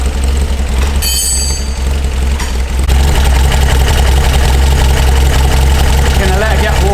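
A Porsche 356 Outlaw engine idles steadily while warming up, a loud continuous rumble with a brief higher rattle early on before settling into an even drone.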